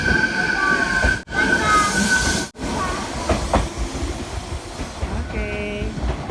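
A train rumbles past at a station with a steady mechanical hiss, a tonal whine and brief squealing near the end, moderately close, while voices talk faintly underneath.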